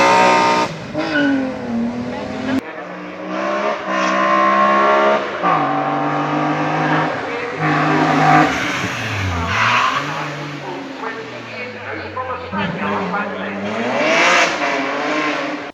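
An S54-swapped BMW E28 driven hard uphill roars close and loud, its engine note climbing and dropping through repeated gear changes, with a sweeping rev drop and rise near the middle.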